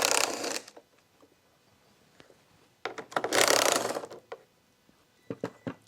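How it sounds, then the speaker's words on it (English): A ratchet loosening the 10mm bolts on a 2011 Honda Accord headlight assembly, in three bursts of fast, close clicking with quiet gaps between them and a few final short clicks. "So here are those 10mm bolts we got to remove"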